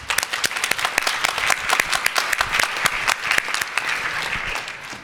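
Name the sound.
audience applause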